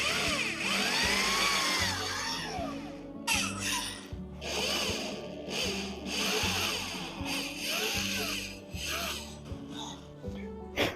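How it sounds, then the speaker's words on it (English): A drill bores small holes through a fret on a 1975 Martin D-41 acoustic guitar, giving close, steady grinding and rasping with shifting whine over roughly eleven seconds. "I'm going to drill a couple little holes right through the fret"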